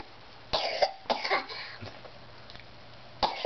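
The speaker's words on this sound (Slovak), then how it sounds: "Zakrývaj si ústočka, keď kašleš." A child coughs several times in short bursts, close and fairly loud, with pauses of quiet room noise between the coughs and no speech.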